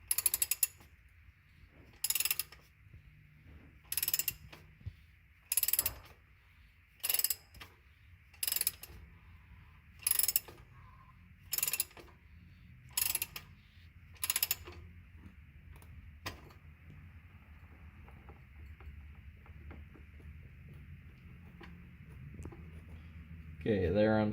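Ratchet wrench snugging an oil filter on a third-generation Toyota Prius: about ten short bursts of rapid clicking at a steady pace under a quiet background hum, with a faint rustle near the end.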